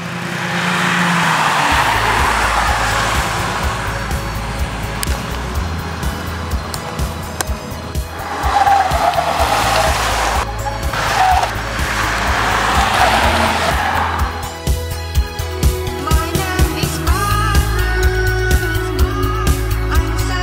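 Steady road rumble and tire noise inside a Honda Mobilio moving on a toll road, with engine drone and some music-like tones over it, continuous throughout.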